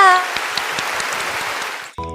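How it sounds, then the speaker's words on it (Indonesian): An audience at a chemistry talk show claps to welcome a guest, a moderate burst of applause under a soft hum that fades out before a voice starts at the end. "Tepuk tangannya!"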